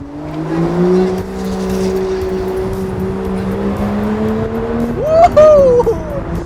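A V12 GT supercar engine hums at a steady cruise with a smooth, rising tone while driving, then swells into a sharp, brief rev near the end before easing back.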